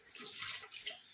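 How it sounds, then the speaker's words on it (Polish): Light drizzling rain falls outdoors as a soft, even hiss of fine droplets lasting about a second, steady and fairly close. "Tak chwilę mży, potem przestanie."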